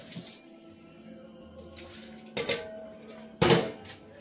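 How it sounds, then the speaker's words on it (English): Water pours and splashes briefly into a blender holding plum tomatoes, with a few sharp clatters of dishes or kitchen utensils and a faint low hum underneath. "put this in our blender. See, beautiful plum tomatoes, add a little bit of water"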